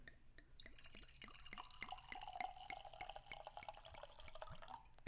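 California Pinot Noir pours from a bottle into a glass, a close, quiet run of glugging, bubbling trickles with a rising fill tone over about five seconds, no talking.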